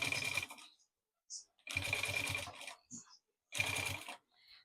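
A sewing machine stitches along the side seam of a small maternity organizer bag, running in three short loud bursts of rapid needle chatter with brief pauses and small handling sounds between them.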